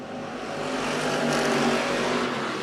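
IMCA stock cars race past at a dirt-track raceway during a night main event, a loud, continuous roar of engines swelling and sustained as the pack passes close by.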